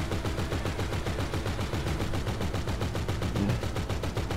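Mounted gun firing in Grand Theft Auto during a casino heist mission, a continuous rapid machine-gun burst with evenly spaced shots throughout, loud and close, no pauses and no talk.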